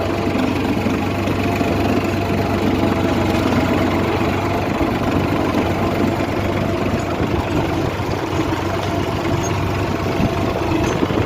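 A GPS-guided tractor working a farm field in Gujarat, its engine running steadily at a low rumbling idle, loud and close, unbroken for the whole stretch with no voices.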